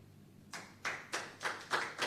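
Applause thanking presenters at a national health research conference: six distinct hand claps in a steady rhythm, fairly faint and alone, starting after a brief quiet moment.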